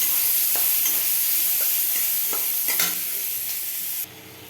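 Onion frying for a fish curry in a pan, a steady loud sizzle with scattered scraping stir strokes, the hiss dropping sharply near the end.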